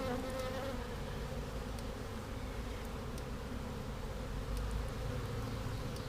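Honey bees from a package colony buzz steadily inside an open hive while frames are inspected, a dense close drone holding level throughout with no voices.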